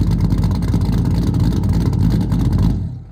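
A modified 1999 C5 Corvette V8 with a Texas Speed cam runs loud and close, a deep, choppy rumble that holds steady before cutting off abruptly near the end.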